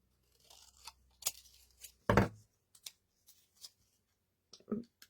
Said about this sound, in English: I'm not going to use the trimmer, I'm just going to get a pair of big scissors.